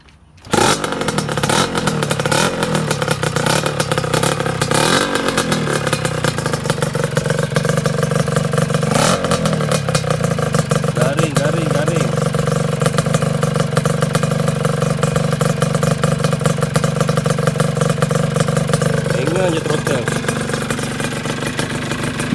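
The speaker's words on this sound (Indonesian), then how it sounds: "Start je nak dengar sikit dia punya exhaust ni." Yamaha RXZ motorcycle started up and left running, its two-stroke engine and exhaust holding a loud, steady, crackling idle with a few blips of throttle, close by throughout.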